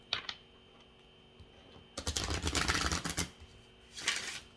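Tarot cards are riffle-shuffled close by in two quick bursts, a sustained flurry of crisp papery flutter lasting about a second, then a short second riffle after a pause.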